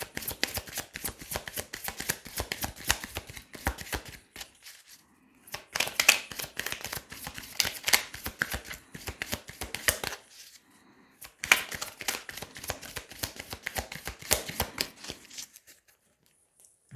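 Petit Lenormand oracle cards being shuffled in bursts, dense rapid riffling and flicking close up, broken by two short pauses, with no talking.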